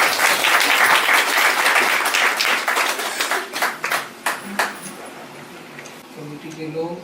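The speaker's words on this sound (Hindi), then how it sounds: "आइए हम जोरदार ताली बजा के हम उनका स्वागत" A wedding audience in Ranchi, Jharkhand, claps loudly to welcome a church pastor, a dense burst of applause that thins into scattered, uneven claps and then fades out.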